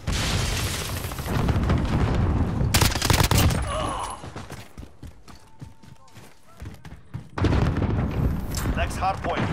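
A grenade blast and gunfire in a hardpoint match of a military shooter video game: heavy booms and bursts of shots amid dense battle noise, easing into scattered distant shots before a renewed loud barrage.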